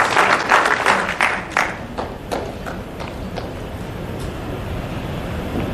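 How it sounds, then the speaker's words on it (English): Audience applause in a hall, starting as a loud burst of dense clapping with distinct sharp claps and gradually thinning and fading into a softer, scattered patter. "I wish that we should give a round of applause to the young Africans in this hall"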